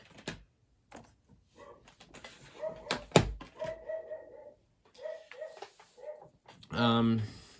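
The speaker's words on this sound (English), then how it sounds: "my dog is barking" A pet dog barking indoors: a few short, sharp barks and yelps scattered between thumps and bumps, then a longer whining bark at the end, moderately close.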